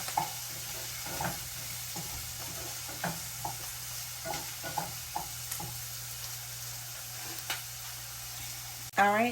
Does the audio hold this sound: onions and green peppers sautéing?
yes